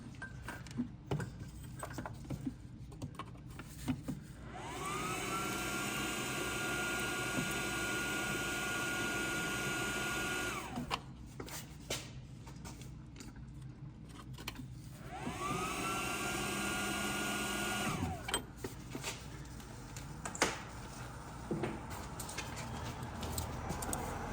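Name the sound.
torch heating rusty Nissan 350Z suspension bolts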